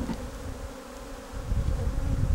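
Honeybees being shaken and poured into a collection box make a dense, steady buzzing hum that swells louder in the second half, with low rustling thumps beneath and no voices.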